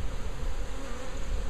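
A steady, dense buzzing of many honey bees at an open hive during an inspection, close and continuous, with a low rumble beneath and no voices.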